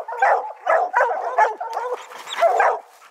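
A dog barks close by in a quick series of about six sharp, yappy barks, evenly spaced, with a slight whiny edge.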